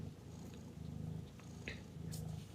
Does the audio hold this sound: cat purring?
yes